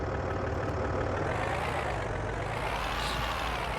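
A car engine runs steadily in a video game, a continuous low rumble that fills the whole stretch with no talking over it.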